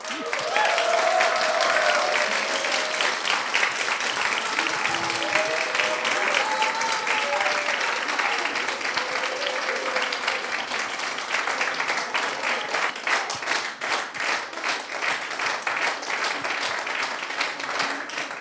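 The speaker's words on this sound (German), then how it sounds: "Für unsere Slammer auf jeden Fall nochmal ein wundervoller Applaus." Sustained audience applause for science slam performers in the Zeiss-Großplanetarium, dense and steady, with faint voices and cheers mixed in throughout.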